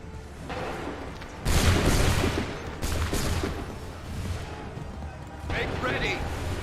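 Musket volley fire in Assassin's Creed 3: a loud crashing burst of massed muskets, a second ragged volley soon after, then a rumbling tail and a brief voice near the end.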